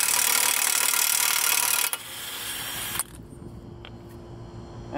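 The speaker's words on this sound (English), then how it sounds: "and we'll remove that with our impact gun." An impact gun removes the 32 mm axle flange nut on a 2007-2014 Nissan Altima driver-side axle: a loud, harsh, continuous burst of about two seconds that drops to a quieter tail, then stops.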